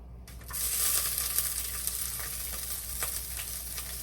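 Fennel seeds and green chilies hit hot oil for a dried fish curry, setting off a sudden loud sizzle that settles into a steady crackling fry, close and without talk.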